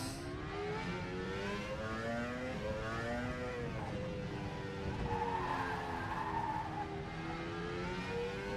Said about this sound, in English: Bit of wheel spin on that throttle.